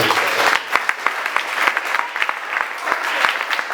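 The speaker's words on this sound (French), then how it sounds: "Acclamons Jésus." Church congregation claps in praise of Jesus, a loud crowd applause with distinct sharp individual claps punctuating a steady wash of hands throughout.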